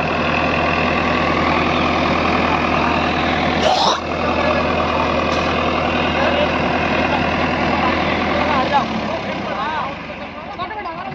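A heavy diesel Farmtrac 60 tractor engine idles and rumbles steadily up close, a deep continuous drone that dips briefly partway through, with voices talking over it.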